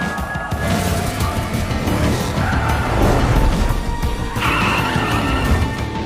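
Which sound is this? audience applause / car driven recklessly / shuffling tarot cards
car driven recklessly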